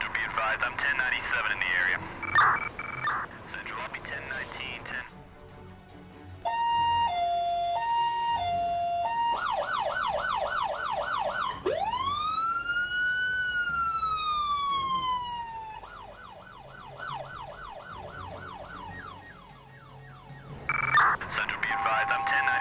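Ambulance siren in the Emergency 4 video game with a Boston mod, loud and close, switching from a hi-lo tone to a rapid yelp, then a long rising-and-falling wail and back to yelp, with talk before and after.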